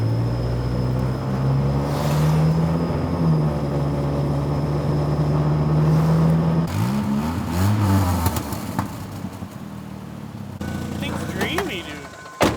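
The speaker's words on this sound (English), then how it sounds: "I hear that squealing or whatever. It's mad loud, yeah, dude. It's the front pads." Front brake pads on a manual, two-wheel-drive 2.2 Chevrolet S10 pickup squeal in long, loud, rising and falling whines over engine noise as the truck moves, with a voice speaking near the end.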